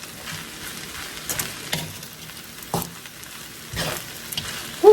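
Scallions are stirred into a frying rice dish, with scattered close scrapes and spoon knocks against the pan over a faint, low sizzle and no talk.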